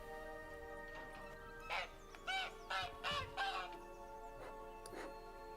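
A goose in The Witcher video game gives a run of loud, close honking calls, five or six harsh squawks in a quick series over a steady low ambient game hum, with no speech.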